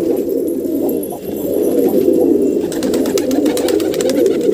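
A newly caught pigeon coos close by in a series of soft throaty calls, accompanied near the end by rapid fluttering or rustling.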